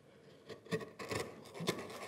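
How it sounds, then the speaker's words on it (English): A chisel pares the inside face of a mortise hole in a workbench leg, smoothing it for the tenon, giving short intermittent wooden scraping and rasping strokes close by, several separate bursts. "This is just paring down the face, just to smooth up the inside to help the passage of the tenon into the mortise hole."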